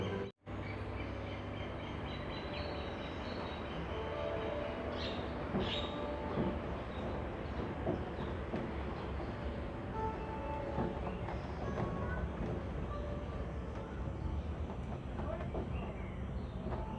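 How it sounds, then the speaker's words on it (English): A tram at Jurong Bird Park rolls along with a steady rumbling, rattling ride noise, moderately loud throughout, with occasional bird calls in the background. "welcome back on our tram ride"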